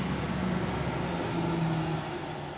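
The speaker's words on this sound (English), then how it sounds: "Oh, the school bus." A school bus rumbles past outside as steady low engine and road noise fills the whole stretch, loud and continuous with a faint high hiss above, and no voices.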